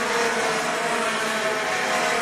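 Rotax Max racing karts at a circuit run down the home straight in a continuous, buzzing two-stroke engine drone, loud and even throughout with no talk over it.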